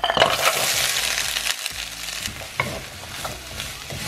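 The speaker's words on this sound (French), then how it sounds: "on prend la même poêle pour ajouter notre mélange de carottes, chou-fleur et oignons" Carrots, cauliflower and onions frying in a pan, with a loud, close sizzle and busy stirring and scraping, briefly dipping before the stirring picks up again, with no talk.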